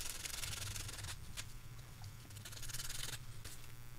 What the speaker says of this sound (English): And then just a little bit, and I try to sand the top a little bit.